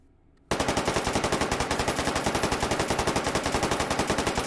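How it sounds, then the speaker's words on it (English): A PP-19 Bizon-2 submachine gun fires in the VR shooter H3VR, fired with stock and foregrip: after a brief quiet moment, a long, loud, rapid stream of evenly spaced shots runs without pause. "as you would properly shoot it"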